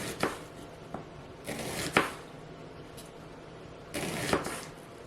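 A knife cuts an onion into thin half rounds on a board in a few crisp slicing strokes, quiet and close, with short pauses between cuts.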